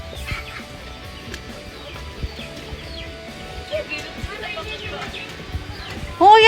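Chickens cluck in a rural Philippine yard, their short calls scattered through the clip beneath ongoing conversation, with a louder burst of activity near the end.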